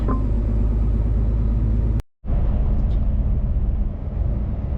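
A car drives along the road toward a port, its steady low engine and road rumble filling the cabin, cut by a brief dropout midway before resuming.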